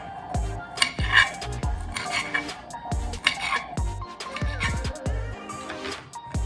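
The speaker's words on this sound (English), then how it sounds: "I just roll it and cut it into thin little" A knife cuts rolled basil into thin slices on a board, giving a series of close, irregular thuds and taps.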